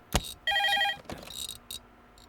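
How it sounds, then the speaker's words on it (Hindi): A telephone rings with trilling electronic bursts, mixed with sharp clicks and rustling nearby. "इससे पीछा छूटा तो फोन बजने लगा।"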